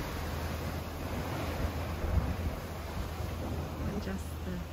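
Steady wash of ocean surf on rocks in central Portugal, a continuous broadband roar of water with faint wind, no distinct crashes standing out.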